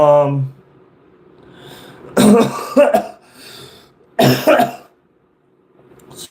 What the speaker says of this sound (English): sorry about that, my cough